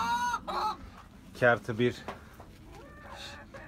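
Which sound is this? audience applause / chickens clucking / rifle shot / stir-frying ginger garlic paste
chickens clucking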